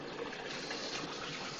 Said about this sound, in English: you probably can't hear me very well because of the water.